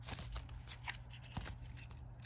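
A deck of board game cards handled and shuffled, soft quick riffling and sliding flicks with a few sharper taps, close and quiet over a low room hum.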